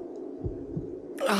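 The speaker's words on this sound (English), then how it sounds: "You hear that heartbeat? It's mine. It's not the game's." Two soft, low thumps of a heartbeat play in the horror game Cry of Fear over a steady low hum, followed by a sudden burst of noise at the end.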